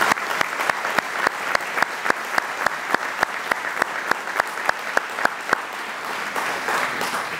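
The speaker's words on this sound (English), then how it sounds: "Would you please give them a round of applause?" A crowd at a State of the City address applauds warmly, with dense steady clapping topped by a regular series of sharp, close claps that punctuate the sound throughout.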